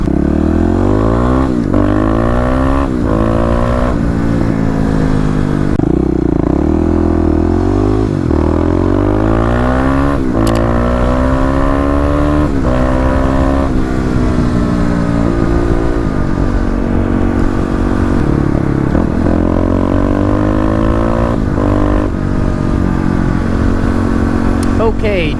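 A Kawasaki KLX351 motorcycle engine being prepped for a dyno session, revving repeatedly with rising and falling pitch sweeps, loud and close, with short throttle blips between longer pulls.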